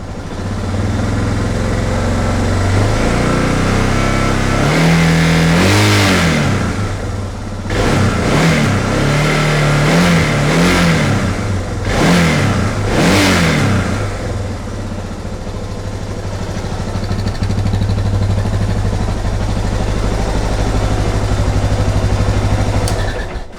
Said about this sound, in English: Let's see what happens when I rev the bike.